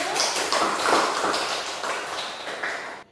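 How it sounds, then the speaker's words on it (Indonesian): Schoolchildren clap together in a classroom, a dense burst of applause that stays loud and steady for about three seconds before cutting off. "Kita kasih aplaus dulu."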